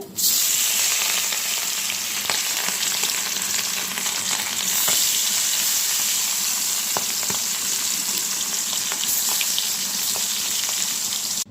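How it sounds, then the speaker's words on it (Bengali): Hilsa fish pieces with pointed gourd and potato sizzle loudly in hot oil, a dense steady crackle and spit with occasional sharper pops and stirring clicks, close and without voices. "এই যে আমার পটল আলুটা ভাজা হয়ে গেছে মাছগুলো ভাজা হয়ে গেছে"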